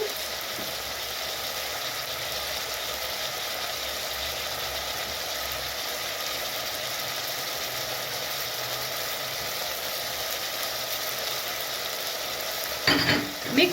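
Matoke (green banana) stew sizzling steadily in a pan, a continuous frying hiss that holds throughout, with a few louder stirring clanks and scrapes near the end.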